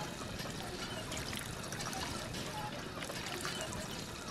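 Water pump in Fallout 4 gushing steadily, a continuous pouring, trickling rush of liquid at moderate level with no break throughout.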